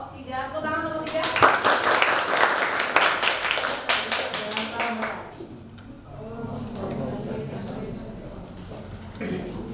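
A classroom of students claps together for several seconds, dense and fairly loud, then the applause fades as a voice starts talking.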